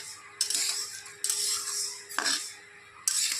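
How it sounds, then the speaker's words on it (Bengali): Mung dal is dry-fried in a pan until reddish, stirred with a utensil in four distinct scraping strokes, close and crisp, with a soft sizzle between them. "ডালটাকে প্রথমে আমি এভাবে ভেজে নিচ্ছি। একটু লাল লাল করে ভাজবো।"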